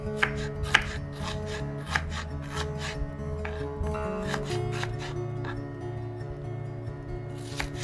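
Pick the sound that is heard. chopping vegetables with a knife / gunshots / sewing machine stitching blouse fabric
chopping vegetables with a knife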